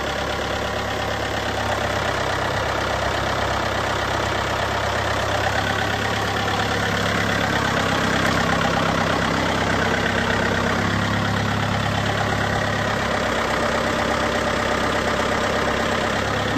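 A 2008 John Deere 110 four-wheel-drive tractor loader backhoe engine running at a steady idle, a loud continuous diesel rumble with even mechanical chatter throughout, close by and without any talking.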